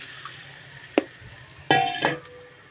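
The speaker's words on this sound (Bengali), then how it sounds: "আমার মাছটা কষানো হয়ে গিয়েছে ভালো করে, তো এখন ঝোল দিয়ে দেবো তার মধ্যে" Broth poured into a pan of browned fish, with a sharp hiss and sizzle after a single metallic clink, then a second burst of sizzling.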